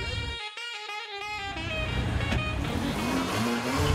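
Mercedes CLA AMG 45 engine revving briefly and then settling into a steady rumble as the car moves, moderately loud and heard from inside.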